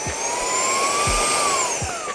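A wireless mini car vacuum and air duster runs with a steady high-pitched motor whine that rises and falls slightly in pitch, with a few soft low clicks or bumps, close up and alone.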